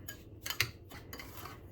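Breadcrumbs seasoned with salt and pepper for eggplant stuffing are stirred in a bowl with a utensil, giving a few quick scraping clinks and gritty rustles up close before trailing off into soft shuffling.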